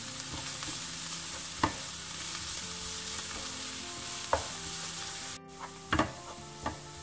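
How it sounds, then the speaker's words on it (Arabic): Olives stirred into vegetables frying in a pan give a steady soft sizzle, with a few sharp clacks and scrapes of the utensil against the pan, heard close up and without talking. "je rajoute les olives et je continue à mélanger"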